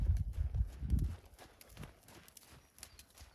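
Hooves of a horse being ridden clip-clop at a steady walking rhythm, fairly close and strongest at first before growing quieter, with no talking over them.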